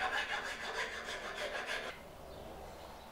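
A small rasp rubs back and forth over a wooden hatchet handle to smooth it toward a final finish, in a steady series of close rasping strokes for about two seconds before it stops and quiet remains.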